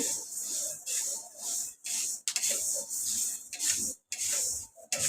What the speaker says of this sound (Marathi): असे सतत हलवत राहायचे, भाजून घ्यायचे.